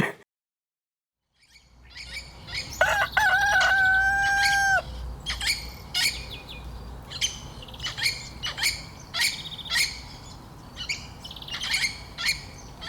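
Dawn chorus in a village beside jungle near the Satpura tiger reserve: after a short silence, many birds chirp and call close by. A long whistled two-tone call is followed by repeated sharp chirps over a low steady background.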